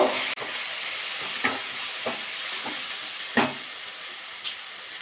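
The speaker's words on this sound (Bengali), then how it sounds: "হলুদ সামান্য চিনি ভালো করে মশলাটা কষিয়ে নেব" Chilli powder, turmeric, sugar and green chillies being sautéed into a spice paste in a pan, a continuous sizzling hiss broken by several short scraping strokes of a stirring spoon.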